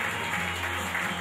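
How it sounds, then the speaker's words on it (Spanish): Applause at a band contest award ceremony: a dense, steady wash of clapping from a crowd, sustained evenly throughout. "Fuerte el aplauso para Doméstico"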